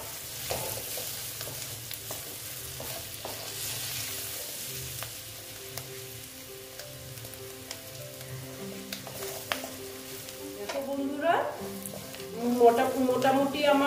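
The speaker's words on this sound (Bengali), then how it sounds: "তারপরে দিয়ে দিলাম হলুদ। দিয়ে একটু আমি নেড়ে চেড়ে নিচ্ছি।" Spices with turmeric fry in a pan of oil and are stirred around, making a steady close sizzle broken by scraping strokes that grow louder and busier toward the end.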